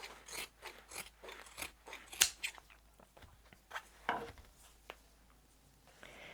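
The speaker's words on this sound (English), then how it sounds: "And then you'll just cut this underneath the strap." Scissors snipping through fabric scraps for a patchwork Christmas stocking, a quick run of close, quiet crisp cuts followed by a few scattered snips.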